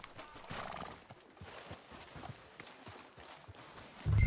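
Horse in Red Dead Redemption 2 with rhythmic hoofbeats at a trot and gallop, close and clear, with a snort or whinny and a sharp thump at the end.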